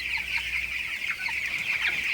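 Broiler chickens cluck steadily close by, several birds overlapping in a busy, continuous chatter with no voices.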